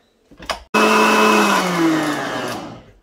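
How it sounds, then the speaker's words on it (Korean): A blender starts abruptly after a brief clatter and grinds ginger in water, running loud and steady for a couple of seconds before slowly winding down. "믹서기에 갈아줍니다."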